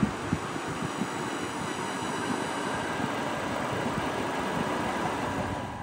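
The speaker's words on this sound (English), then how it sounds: "Motor will slowly come to halt, and then start to rotate in the reverse direction." Steady electric hum and whir of a three-phase motor driven by an Arduino-based inverter as it slows and reverses direction, a continuous drone with faint rattling, moderately quiet and without speech.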